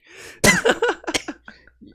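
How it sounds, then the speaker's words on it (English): A single person coughs in a quick series of harsh bursts, close and fairly loud, tapering off into softer breathy sounds. "I'm like starting to cough right now"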